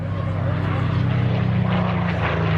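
A warbird with a Rolls-Royce Merlin 70 engine drones overhead at an airshow in Wanaka, New Zealand, a loud, steady, throbbing propeller roar that fills the whole clip without a break.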